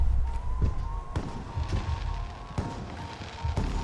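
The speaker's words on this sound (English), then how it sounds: "The noise from those fireworks should cover the sound of gunfire." Fireworks burst in the video game Alpha Protocol, sharp cracks and booms spaced about a second apart over a low rumble and a faint steady tone, moderately loud with no talking.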